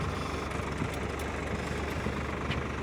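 A tractor towing a turmeric planting machine across a farm field gives a steady, moderately distant engine drone that holds an even level throughout, with no voices.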